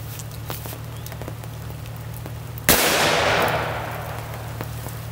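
A single sharp report from a .244 caliber rifle on a ranch, standing out from a quiet outdoor background with a low hum, followed by a long fading echo that rolls away over a couple of seconds.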